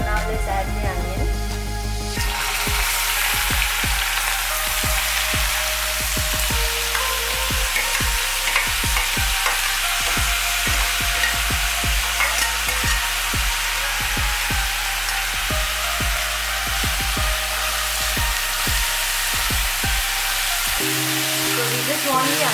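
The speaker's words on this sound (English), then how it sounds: "So now let's add the onion." Onions fry in hot oil for rajma curry, a loud continuous close sizzle with repeated scraping stirs of a spoon against the pan, briefly interrupted near the end.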